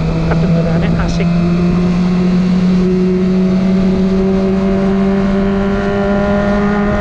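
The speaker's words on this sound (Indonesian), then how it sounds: "kalau bisa itu larinya selalu di RPM itu biar suaranya ini kedengarannya asik" Kawasaki ZX25R with an aftermarket exhaust held at high RPM while riding, a loud continuous high-pitched engine whine with steady tones that hold throughout, close to the microphone.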